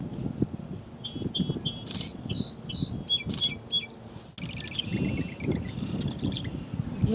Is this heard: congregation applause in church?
no